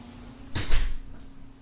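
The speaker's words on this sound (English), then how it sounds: "make sure you shut the door" A door swings and shuts in a room, giving a brief muffled thud and a short rattle midway through, with low room hum and no speech around it.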